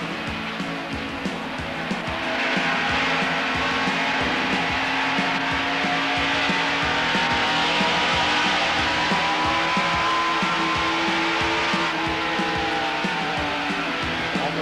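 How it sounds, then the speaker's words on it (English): A NASCAR-style race car brakes hard into turn one and drifts up the track, a loud continuous engine roar with tyre scrub and layered engine tones from nearby cars throughout. "Brakes hard down in turn one, lets the car drift up."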